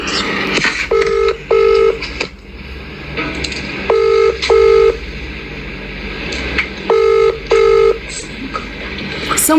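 Touch-tone telephone dialing, three separate bursts of paired keypad beeps spaced a few seconds apart, loud and close over a steady background hum.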